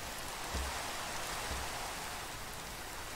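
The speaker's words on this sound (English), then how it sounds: "It's raining so much though." Steady rain falling in Minecraft, a continuous hiss of even, dense patter with no talk over it.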